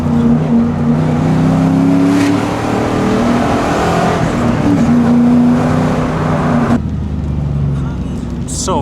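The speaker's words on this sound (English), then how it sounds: "I love how they sound though, that throaty sound" A Ford Mustang drives along with a throaty exhaust, its engine note rumbling steadily and close, shifting in pitch as it pulls, then dropping off near the end.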